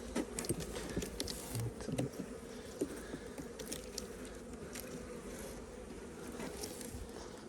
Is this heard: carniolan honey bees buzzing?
yes